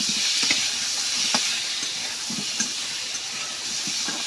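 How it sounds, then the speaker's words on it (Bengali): Whole pointed gourds (potol) fry in a pan with a dusting of turmeric, giving a steady close hiss and sizzle with occasional soft stirring knocks. "পটলটা আমি ভাজে নিব।"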